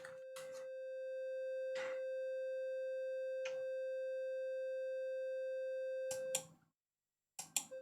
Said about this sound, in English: Simple synthesizer demo.